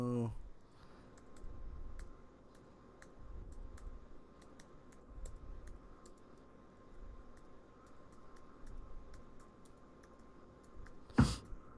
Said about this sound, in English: A lot of typing one-handed here, guys.